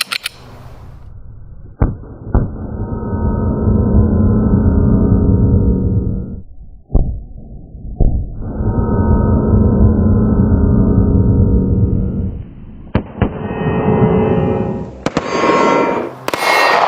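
Firework bursts go off close by, loud and sustained with crackling tails, and several sharp pops and bangs follow near the end; there is no speech.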